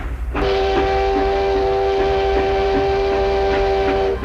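A moving freight train sounds a sustained steady whistle that starts abruptly and holds for about four seconds over a low rolling rumble, with no voices.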